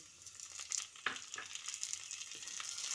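Chopped tomato drops onto potatoes frying in oil, setting off a quiet, steady sizzle with a sharp burst near the start and light stirring scrapes over the hiss.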